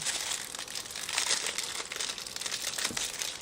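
Plastic packaging of a two-piece hair clipper and beard trimmer kit crinkles and crumples steadily up close as it is handled, a continuous dry rustle with no talking.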